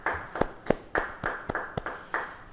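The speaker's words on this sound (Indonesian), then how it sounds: "Yang mau beri tepuk tangan bagi dia" Clapping at a Bible study gathering, about eight sharp, evenly spaced claps over a faint room hum, sounding like a small group or a few hands rather than a full crowd.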